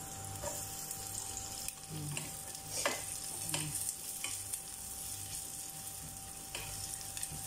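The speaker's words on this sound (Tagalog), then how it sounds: "Lagyan natin ang sibuyas." Onions sautéing in hot oil in a pan for ampalaya with egg, a steady low sizzle with occasional soft scrapes of stirring, no talking.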